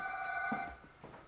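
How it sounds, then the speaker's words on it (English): A home telephone in Los Angeles rings once around Christmas 1993, a faint electronic trill lasting under a second before trailing off into room quiet. "Excuse me, there's a phone call."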